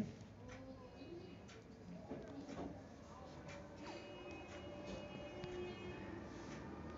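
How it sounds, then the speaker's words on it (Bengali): An Azimganj–Katwa passenger train passes on the Katwa line: a faint, low rumble with scattered metallic clanks and rattles, with a person talking over it throughout. "এটা হচ্ছে আজিমগঞ্জ কাটোয়া প্যাসেঞ্জার, যেটা আজিমগঞ্জ থেকে 3:10-এ ছাড়ে।"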